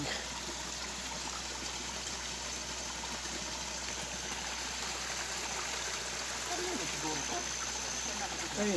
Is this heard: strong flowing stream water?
yes